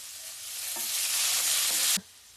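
Onions, green chillies and curry leaves frying in a pan for a drumstick-leaf palya, a loud steady sizzle building over two seconds with faint stirring scrapes, then cutting off abruptly.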